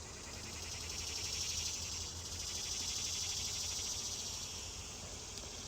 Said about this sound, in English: Excuse my bees coming through.